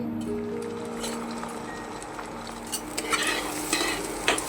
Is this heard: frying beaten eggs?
yes